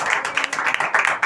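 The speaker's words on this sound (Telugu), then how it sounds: "చప్పట్లు కొట్టండి ఒకసారి." A church congregation claps together, a dense steady patter of many hands filling the space at moderate loudness with no pause.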